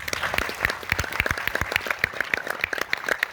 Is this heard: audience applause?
yes